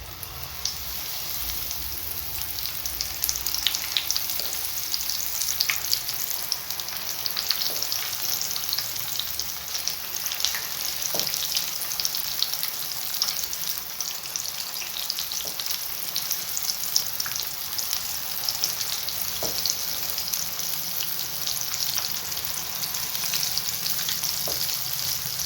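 Gram flour bonda fry in a shallow amount of oil, giving a steady, close hiss of bubbling and sizzling with scattered small pops and crackles throughout.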